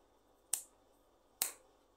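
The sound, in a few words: finger snap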